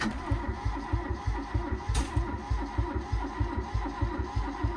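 An old barn-find engine cranks over with a steady rhythmic chug, catching in occasional sharp pops as it tries to fire, loud and close with no talk.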